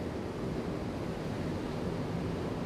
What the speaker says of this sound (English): we got this onshore flow, which is bringing the waves in